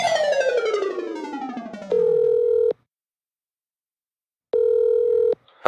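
A telephone handset plays a series of descending tones, then a steady dial tone sounds twice in loud, clean bursts separated by a stretch of silence.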